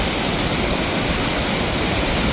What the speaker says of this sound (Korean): 그 아래 아주 깊은 협곡에 있는 폭포들인데 연산 폭포 오늘은 수량도 많고